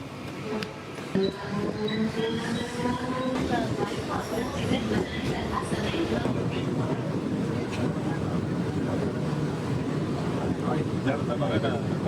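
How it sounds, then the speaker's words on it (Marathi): Steady rumble and rattle of a moving Borivali-bound commuter train heard from inside, with wind buffeting and faint chatter of people in the background. "आता मी पकडली आहे ती बोरवलीचीच ट्रेन आहे"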